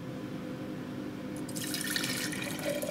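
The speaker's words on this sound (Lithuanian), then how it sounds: "Tirpaliuką supilkim atgal į stiklainį ir padėkim iki geresnių laikų." Ferric etching solution for a homemade printed circuit board is poured from a tray back into a glass jar, a steady splashing liquid pour starting midway and running to the end over a faint constant hum.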